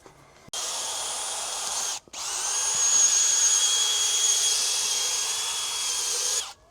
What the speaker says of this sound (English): before we start drilling through it and putting the hinges into there